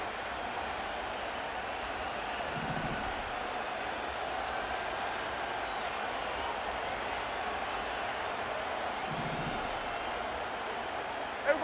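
Stadium crowd in the Madden NFL 25 football video game, Green Bay Packers vs Dallas Cowboys on PS5: a steady, moderately loud roar of the crowd that runs through the whole stretch, with brief swells during a tense two-point attempt.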